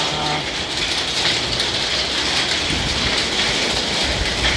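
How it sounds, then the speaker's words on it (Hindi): Heavy rain with hailstones pours down during an unseasonal storm, a loud, dense, unbroken patter of drops striking surfaces throughout, with no voices. "और आज की बारिश में देखिए हमारे यहाँ बर्फ़ पड़ रहा है। देखिए ये, हाँ ये देखिए बर्फ़ पड़ रहा है ऊपर के। ओले ओले बोल रहे हैं।"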